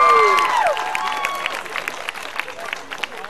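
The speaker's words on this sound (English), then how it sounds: "Please give them a round of applause." Applause with scattered cheers from an audience at a Best Buddies charity flash mob event in Las Vegas, moderate clapping that follows a fading musical chime at the start.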